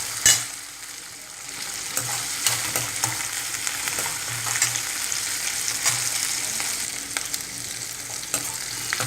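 Green chilies sauté in a pan, a steady hiss of frying oil broken by irregular scraping and clinks of a stirring spoon against the metal, close and continuous with no talk.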